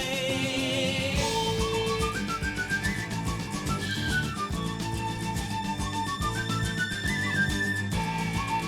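Bright whistled melody rides over a full band accompaniment in a song, steady and prominent, with sustained notes and quick runs across the whole stretch.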